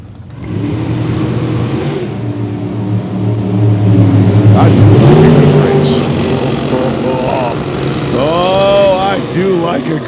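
Two Super Gas drag race cars, both dialed in at 9.90, roar off the line and race, a loud sustained engine blast that swells and drops in pitch, with an announcer calling the race over the noise.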